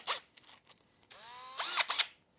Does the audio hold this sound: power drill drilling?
yes